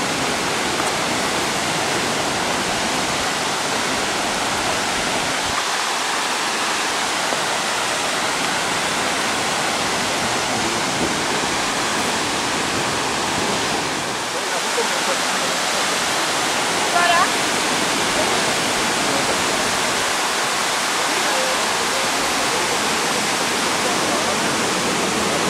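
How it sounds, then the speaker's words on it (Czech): Waterfall in the Tatra mountains, a loud, steady rushing roar of falling water filling the scene without a break. "Jsme na vodopádě, víš jo?"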